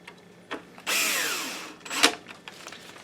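A power screwdriver drives screws into an NEC P502HL-2 DLP laser projector under repair, heard as a short whir near one second and a brief sharp burst near two seconds, close up, with light handling noises around them.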